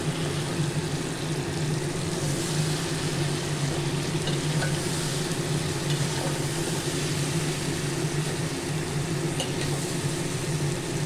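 Spices being sautéed (kashano) in a pan for a Bengali dish, browned to a red colour; a steady, even sizzle hisses throughout, constant and close, with no voices.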